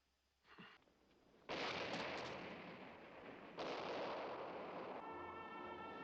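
A dynamite explosion in the Western film A Fistful of Dollars sounds as a sudden loud roaring blast. A second surge follows a couple of seconds later, and the rumble sustains to the end without speech.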